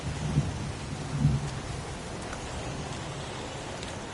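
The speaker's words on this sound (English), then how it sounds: "It's pouring rain." Heavy pouring rain hisses steadily and close, with low rumbling thunder swelling briefly under the downpour, no voices.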